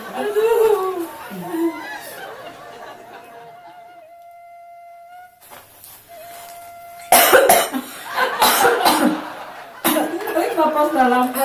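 A woman coughs several times in quick bursts amid chatter and laughter from others, the coughs loud and close, breaking out after a pause, during a comic Sundanese poetry reading.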